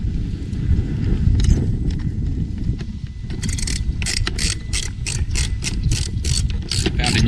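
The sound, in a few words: ratchet tightening screws on Sea-Doo Fish Pro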